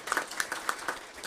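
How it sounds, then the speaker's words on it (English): Brief scattered clapping from a small group at a school district board meeting, honoring students who gave reports, a handful of uneven claps heard at moderate distance. "Let's give them a big round of applause"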